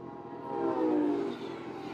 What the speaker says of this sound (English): Should I be this close to the train?